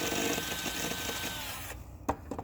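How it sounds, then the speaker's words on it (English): Power drill bit grinds steadily into old playground wood, a loud buzzing whir that cuts off partway, followed by a couple of sharp knocks. "Apply weight on the drill. But not too much weight."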